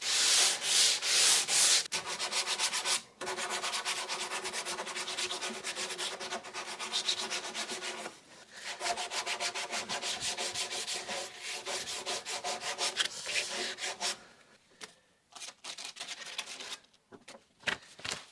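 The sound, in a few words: sanding wood by hand with 80 grit sandpaper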